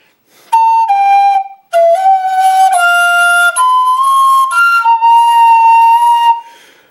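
Native American flute playing a slow ascending scale of sustained, breathy whistle-like notes, with one note marred by an air leak from an imperfectly covered finger hole, played solo and close.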